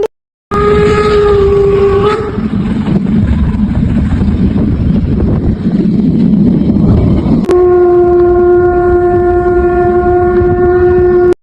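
A steam train rumbles past loudly and continuously through snowy German countryside, with long blasts of its horn at the start and again near the end.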